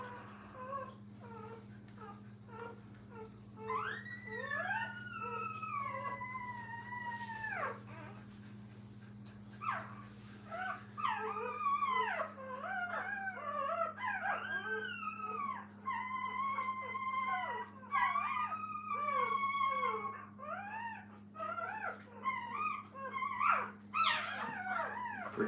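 Puppies in a training kennel fussing, with repeated high whimpers, whines and wavering howls overlapping one another over a steady low hum.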